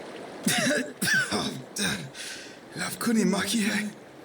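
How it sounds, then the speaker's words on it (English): A man in the video game Pillars of Eternity II: Deadfire speaks in short, strained bursts broken by rough coughs and throat clearing, close to the listener. "He coughs out the last word"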